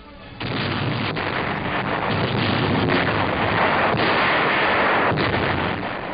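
Bombs from RAF Lancasters exploding over the industrial city of Pforzheim, Germany, in a 1945 air raid, a dense continuous rumble of blasts and crackling fire with sharper thumps mixed in, loud throughout.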